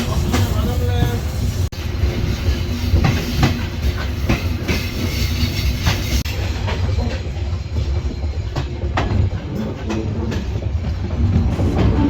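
Continuous rumbling and rhythmic clickety-clack of the Nilsagar Express heard from on board, loud and steady, with faint murmurs of voices in the background.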